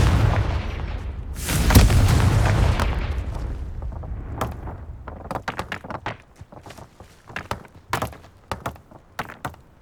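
A fire-blast spell explodes in Hogwarts Legacy, a loud booming roar that rumbles for a couple of seconds before breaking into scattered cracks and thuds of combat.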